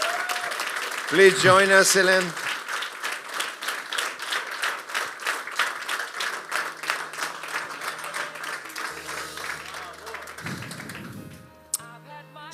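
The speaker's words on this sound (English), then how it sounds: "So please, big applause." Applause for the finalists at a sommelier competition final, a run of dense hand clapping from an indoor audience that thins and fades out, with someone speaking over it at the start.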